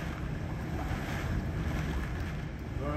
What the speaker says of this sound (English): Come on, wind. Blow north.